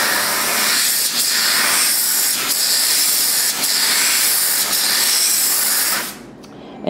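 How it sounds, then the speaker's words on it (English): Compressed air duster from Costco spraying a slide scanner tray front and back, a loud steady hiss in repeated bursts that ends abruptly near the finish. "So here's some computer dust off from Costco. And we'll squirt the front and back."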